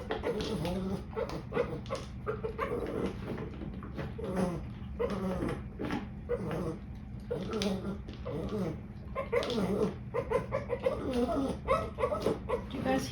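A dog eats frantically from a slow feeder, with busy, irregular lapping, snuffling and whimpering sounds running continuously close up, over a faint background.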